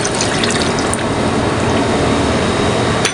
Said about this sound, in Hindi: तो इस कटोरी के हिसाब से ही हम पानी डालेंगे